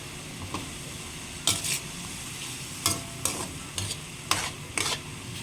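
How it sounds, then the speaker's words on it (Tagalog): A spatula stirs string bean adobo in a sizzling pan just after vinegar goes in. Several scraping strokes come in short bursts over a steady frying hiss, close by and with no voices. "Haluin lang natin."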